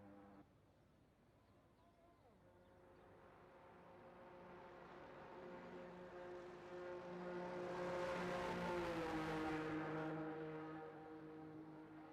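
A racing car engine in a sim racing esports qualifying session at Qatar, a thin buzzing drone that swells as the car comes out onto the track, peaking loudly then easing, with faint commentary beneath.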